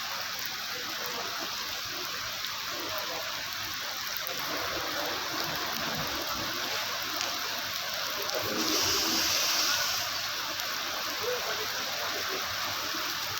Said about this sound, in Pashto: برابر اوبه را روانې دي.